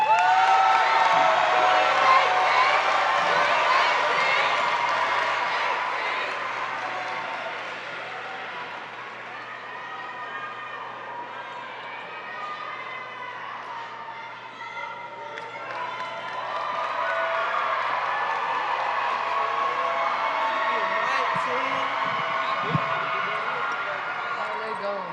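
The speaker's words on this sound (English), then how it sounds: "will the class of 18 please join me in a self-applause as we have made it" At a 2018 high school graduation, the graduating class bursts into applause and cheering for themselves, a large crowd roaring and clapping that fades and then swells again, with amplified voices over the top.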